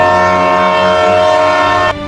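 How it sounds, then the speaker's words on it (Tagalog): A steady, loud mechanical drone with sustained tonal hum, like a train rolling along, cutting off abruptly near the end. "nakarinig siya ng mahinang tunog ng tren"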